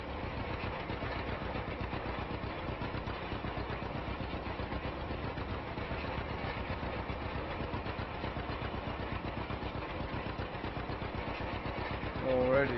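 A 1949 John Deere A tractor engine in Farming Simulator 25, rolling a wheat field, gives off a steady, unbroken mid-low engine drone that stays even for the whole stretch.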